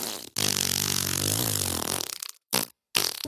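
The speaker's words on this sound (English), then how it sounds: "play fart noises from your phone" A long, buzzy, wavering fart noise played from a phone speaker, followed by two short bursts after brief silences.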